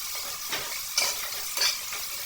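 Chopped tomatoes frying in a pan for tomato bath under a steady close sizzle, with the spoon scraping through them a few times.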